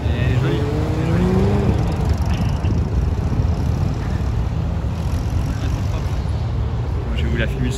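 An Alfa Romeo drives past at a Sunday car gathering in Vauban, a steady, loud engine and road rumble that holds throughout, with people talking over it.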